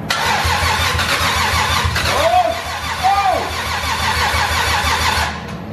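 A Toyota 2JZ engine swapped into a BMW E36 cranks and fires up loud and close, then settles into a rough, steady idle that holds for several seconds.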